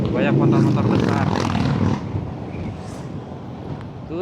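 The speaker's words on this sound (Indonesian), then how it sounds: "Banyak motor-motor besar." Big touring motorcycles pass on a road. A loud engine roar and wind rush the microphone, then fade, with a person talking over the sound.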